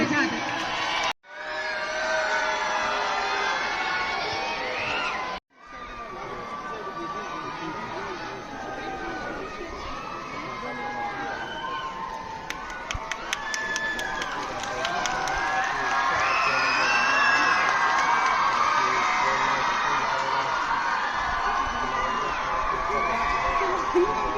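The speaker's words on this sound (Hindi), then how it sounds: "एक बार जोरदार तालियों के साथ" Students at a school ceremony honouring toppers cheer, whoop and clap as a large crowd, the noise swelling louder toward the end, with voices mixed throughout.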